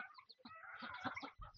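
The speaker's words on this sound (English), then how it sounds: "The chicks." Chicks on a ranch in Costa Rica cheep in a faint, busy chorus of overlapping peeps, heard close by without talking.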